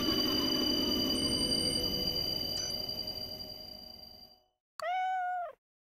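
A short synthetic cat-meow ringtone in a video game rings out once after steady electronic hum and beeping fades to silence, clear and close.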